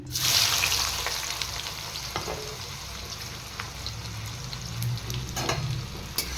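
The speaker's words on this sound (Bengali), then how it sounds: "এবার আমি কুচিয়ে রাখা পেঁয়াজগুলো দিয়ে দিচ্ছি" Chopped onions dropped into hot oil, a loud burst of sizzling at first that settles into a steady, close crackling fry with occasional stirring clicks.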